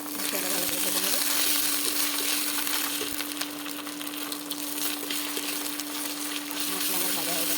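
Onion with ginger-garlic paste fries in a pan, giving a continuous close hissing sizzle with a steady hum underneath and occasional scraping stirs.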